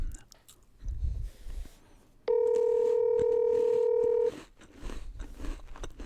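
A phone call on speakerphone rings out as a loud steady tone lasting about two seconds. Quiet voices and a low rumble surround it before and after.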